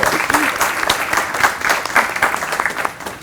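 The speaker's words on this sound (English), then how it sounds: "let's give a big round of applause to everyone who made this happen" An audience claps loudly at a university book launch, many pairs of hands in a full, sustained round of applause close by, with no voices over it.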